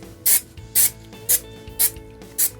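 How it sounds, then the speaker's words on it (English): Spray adhesive from an aerosol can sprayed onto a ColecoVision cartridge label, five short sharp hissing bursts at an even rhythm, close and distinct against a quiet background. "Spray it with some adhesive"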